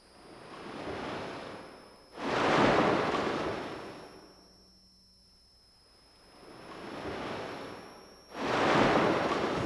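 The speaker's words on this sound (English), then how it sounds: "We've got waves." A Technics keyboard's ocean wave effect swells and recedes in slow surges, two loud crashes of hissing surf with a quiet lull between them, alone without voices.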